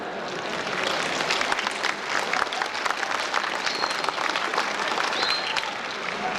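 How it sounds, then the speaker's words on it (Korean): A large audience applauding at a university freshman entrance ceremony, a loud, sustained roar of many hands clapping in a big hall, dense and even from start to finish. "여러분들에게 박수 한번 보내주셔야 하는 부탁드립니다"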